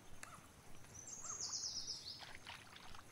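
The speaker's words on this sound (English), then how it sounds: "you can see the bird sounds and everything are different as well" Faint bird chirps and calls rise over soft lapping water in the Fisher Online fishing game at the 1000 Islands location, scattered and distant across the quiet scene.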